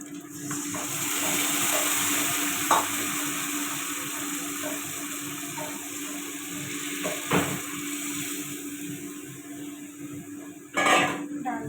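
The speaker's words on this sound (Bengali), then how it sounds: "ডাল দিয়ে দিলাম" Lentils for a fish-head dal hit a hot pan and sizzle in a steady, fairly loud hiss, with occasional utensil clatters and a brief louder flare near the end.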